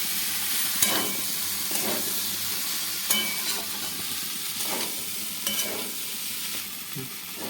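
Snails sizzle steadily as they fry in a pan for a spicy village-style dish, with periodic scraping strokes of a spatula every second or two, close and fairly quiet.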